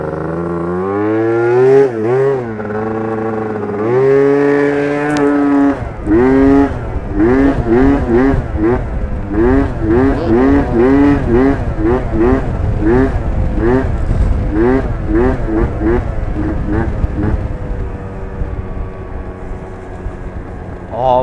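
A Yamaha Aerox 70cc scooter engine buzzes loud and close while riding, its pitch climbing and falling through repeated rev surges in a quick, warbling rhythm for the whole stretch.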